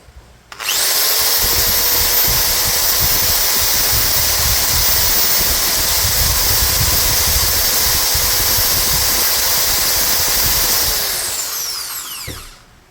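A Doliz BA652 electric drill runs at top speed, spinning up to a loud, steady, close whine that holds for about ten seconds before winding down and stopping.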